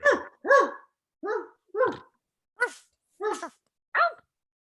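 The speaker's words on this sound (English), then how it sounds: "There's a sound of a dog barking, turns out." A collie barks seven times in quick, evenly spaced yaps, loud and close, with short silent gaps between each bark and no other sounds around them.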